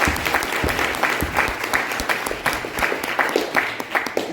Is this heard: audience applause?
yes